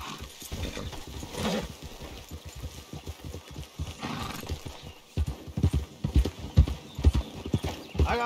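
Horses in the video game Red Dead Online trotting with steady clip-clop hoofbeats that grow louder and closer, with a neigh early on.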